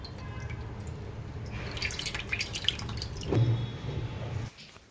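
Soaking water drains off sago pearls being made ready for doodh pak. A soft trickle and patter of dripping swells to a brief gush, then stops suddenly.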